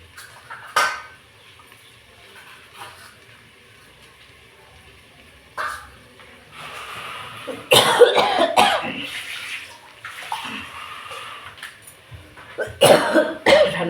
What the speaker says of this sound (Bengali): ঠান্ডার সময় খুব কাশি হয়